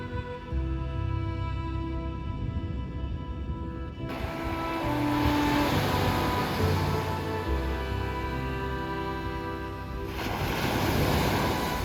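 Ocean waves wash steadily onto the shore in a continuous broadband roar, with a broad swell rising midway, heard up close with some wind across the microphone and no voices.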